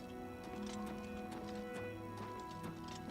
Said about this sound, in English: He's riding his horse.